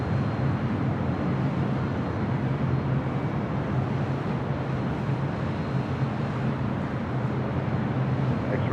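A converted Airbus A330 cargo plane taxis at LAX, giving off a steady, continuous jet engine rumble and broadband roar that holds at an even level throughout, with no voices.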